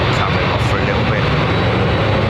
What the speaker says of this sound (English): Love the sound of a 767. It's old school jet noise, kind of.